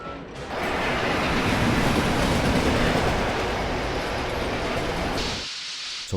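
A train runs on rails in a Western film, a loud continuous rumble that rises abruptly after half a second, holds steady and then cuts off near the end.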